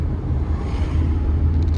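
Car engine accelerating on a driving test route in Bila Tserkva, a steady low rumble with road and wind noise filling the cabin, close and continuous.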